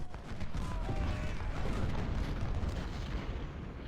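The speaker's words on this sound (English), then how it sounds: "there must be cannon somewhere over here" Cannon fire from a Civil War battle in the Ultimate General: Civil War strategy game, a dense continuous rumble of distant artillery booms rolling on without pause and no talking over it.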